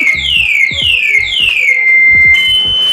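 A Fekon Falcon X400 motorcycle alarm sounds loudly and close, a series of falling siren sweeps that settle into a steady tone, then switch to a higher pitch, over low rumbling noise.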